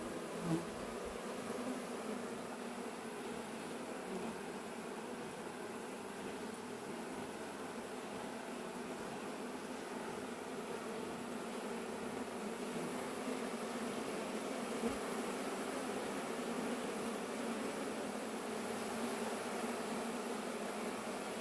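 A honey bee swarm in a wooden stump makes a steady, dense buzzing hum that carries on unbroken throughout.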